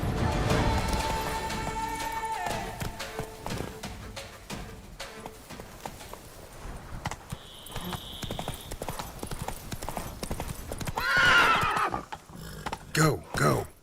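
A horse gallops in the Witcher 3 video game, its rapid clip-clop hoofbeats close and steady under brief speech, with a whinny and crashing game sounds near the end.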